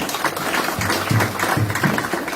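Audience applause at a Ram Navami Ramayan recitation gathering, a dense steady patter of many hands clapping throughout, fairly close and loud, with no voices above it.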